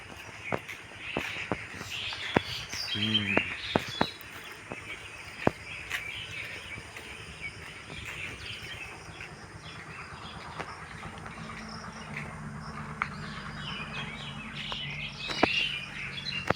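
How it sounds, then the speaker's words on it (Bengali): Birds call from all around in a rural village beside rice fields and a railway line, with scattered chirps and tweets over soft insect buzzing and steady outdoor ambience. "চারদিকে পাখির ডাক"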